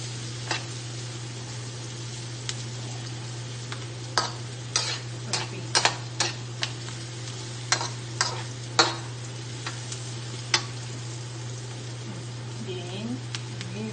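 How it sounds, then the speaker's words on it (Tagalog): Onions sautéing in a pan until clear, a faint sizzle beneath intermittent scraping and tapping of a spoon against the pan, with a steady low hum throughout. "Pag namuti na yung sibuyas, pag yung pagkapula ng sibuyas medyo pa-clear na."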